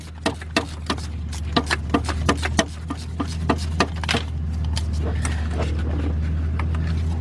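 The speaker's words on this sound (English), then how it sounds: "See, this is why I like a speed wrench." A speed wrench spins a bolt during starter replacement on a Chrysler Sebring, giving a rapid series of sharp ratcheting clicks in an uneven rhythm over a steady low hum, fading into muffled handling noise.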